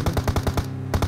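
A rapid burst of automatic gunfire in a video game, about ten evenly spaced, punchy shots close up with one brief gap, no talk.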